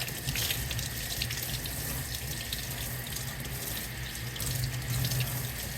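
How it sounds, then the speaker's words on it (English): Hot water gushes steadily from a tap in a garage while cleaning a 2020 KTM 690 air filter, a continuous close splashing rush that swells slightly near the end, with no talking. "I'll put on the hot water."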